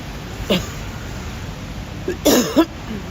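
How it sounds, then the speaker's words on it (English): Two short, sharp coughs a couple of seconds apart, the second a quick double burst, close by against a quiet background. "Sorry for the cough. Yes, the cough is still with me."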